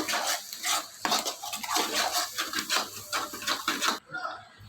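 Egg thokku being stirred in a pan on a stove, a busy run of scraping, clinking utensil strokes against the pan for several seconds, close and fairly loud, stopping abruptly near the end.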